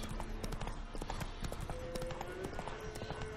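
A horse's hooves clip-clop steadily at a riding pace in The Witcher 3, a close, even rhythmic beat with faint background ambience.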